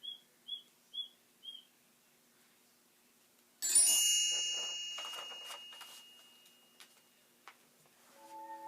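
Songbirds chirping in early spring: a few short, evenly spaced high chirps, then after a pause a sudden bright burst of overlapping tweets and calls that gradually fades, with lower sustained tones near the end.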